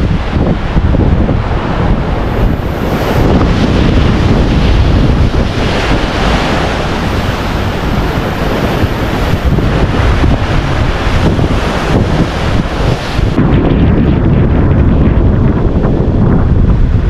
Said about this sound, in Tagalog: Tingnan nyo yung alon mga kaibigan.